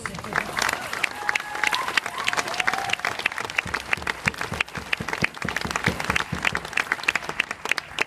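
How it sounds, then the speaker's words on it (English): An audience applauds after a speech in Ottawa by Justice Murray Sinclair, chair of the Truth and Reconciliation Commission, producing sustained, fairly close clapping from a roomful of people with a few voices underneath. "Give yourselves a round of applause."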